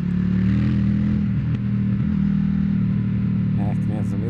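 An Indian FTR 1200 motorcycle pulls hard through a city street at night, its engine a steady, loud, close drone under the rider's ongoing talk.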